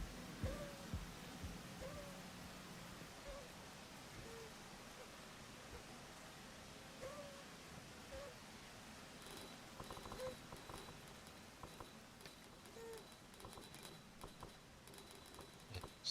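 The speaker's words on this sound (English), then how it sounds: "Still raining, but I kind of want to get going." Steady rain hiss fills the Rain World game scene, a dense unbroken patter with faint creature calls and soft chirps scattered through it, growing slightly brighter and noisier toward the end.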